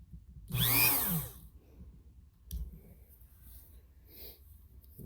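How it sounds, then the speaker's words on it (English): A Dremel rotary tool whirs briefly, its pitch sweeping up and then falling as it spins up and winds down, followed by quieter handling knocks near a Stanley 8-pound maul head. "we're going to use our Dremel tool to see how effective this little guy is"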